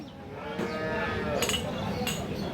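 A crossbred dairy cow at a cattle market gives a low, sustained moo nearby, with market clatter and brief voices in the background.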